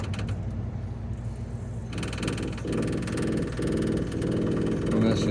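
The onboard generator of a new 2024 Keystone Fuzion 430 fifth-wheel toy hauler RV is primed and then started. A constant mechanical hum shifts about two seconds in into a fuller, steady engine drone that continues to the end.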